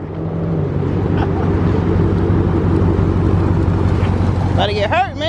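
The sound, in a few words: Dodge Charger Hellcat supercharger whine pulling up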